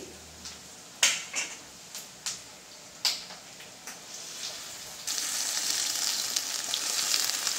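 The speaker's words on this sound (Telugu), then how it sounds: "ఉల్లిపాయలు వేగగానే ఈ ఆకు తాలింపులో వేసేద్దాం" Ponnaganti leaves dropped into an onion tempering in a pan: a few clinks of a utensil are followed by a sudden, loud, sustained sizzle that continues to the end.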